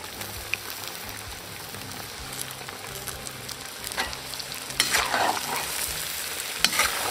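Chopped onions fry in hot oil in a kazan over beef for beef plov, a steady close sizzle with a spoon scraping and stirring through it, stirring strokes growing louder toward the end.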